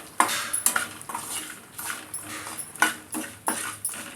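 Ivy gourd pieces being stirred with salt in a pan, a spoon scraping and clinking against the metal in several short, close strokes with brief pauses, no voices.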